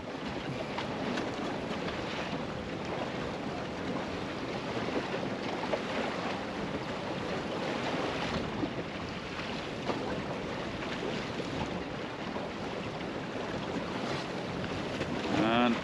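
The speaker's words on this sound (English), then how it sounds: "There's a lovely boat just coming alongside me now." Continuous rush of water and wind around a Welsford Navigator sailing dinghy, steady and close, with a passing boat's wash blending into the constant surf-like noise.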